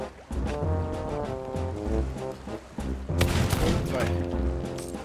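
Gunfire rattles in bursts aboard a ship in the pirate game Sea of Thieves as players shoot at a stowaway, mixed with deep booms, ship sounds and excited voices talking over it.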